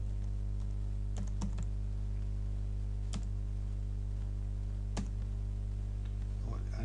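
Computer keyboard typing while entering Java code, a few sparse, faint key clicks spaced apart over a steady low electrical hum, with no other activity.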